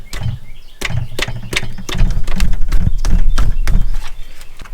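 Ratchet clicks and sharp metallic knocks as a wrench breaks an oil pan bolt loose on a 1988 Toyota van, a rhythmic series of hard clacks about every half second, close and fairly loud in a workshop.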